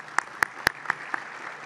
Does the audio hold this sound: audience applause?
yes